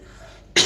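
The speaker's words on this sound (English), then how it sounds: "I'm just clearing my throat now." A single short throat clearing, close and fairly loud, bursting out abruptly after a brief stretch of quiet background.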